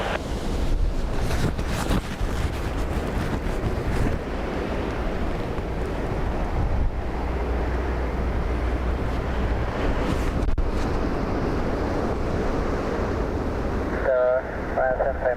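Strong Storm Bram winds at Dublin Airport roar continuously, gusting around 54 knots and buffeting the microphone loudly, while a voice talks over the steady rushing.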